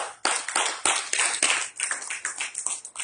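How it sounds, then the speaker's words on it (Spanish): A church congregation applauds for Jesus, a dense burst of many hands clapping close and loud, running continuously with uneven sharp peaks and no talk over it. "denle un aplauso a Jesús"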